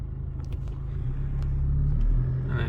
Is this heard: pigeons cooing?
no